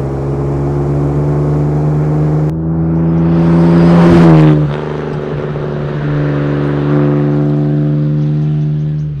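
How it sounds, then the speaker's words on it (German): A 1954 Jaguar XK 120 open two-seater engine loud and close while driving, a steady deep drone that swells into a rising rev around the middle, then settles back to a strong cruising note. "Und hört mal selber, der klingt toll, der Wagen."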